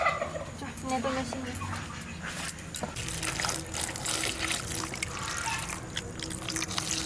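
Running water splashes and trickles over a peeled bottle gourd being washed, a near, uneven flow with occasional louder gushes.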